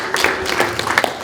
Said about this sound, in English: I want to give them an applause.